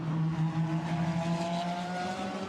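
A red AF Corse Ferrari race car runs at the 24 Hours of Spa, its engine a steady, loud, high-pitched tone that rises slightly as it passes close by.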